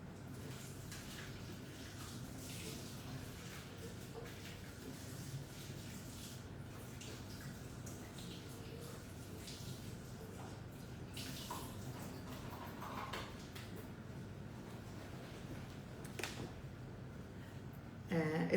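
Fruit being washed under a running kitchen tap: a steady, faint stream of water with small splashes and shifting tones, continuous and close, ending in a brief louder knock.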